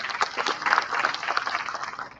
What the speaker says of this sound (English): So big round of applause for sir